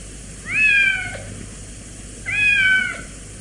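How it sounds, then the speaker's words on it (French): A cat meows twice in a radio drama, two clear, fairly close cries spaced about two seconds apart over a quiet background hiss. "Il y avait un chat dans un arbre."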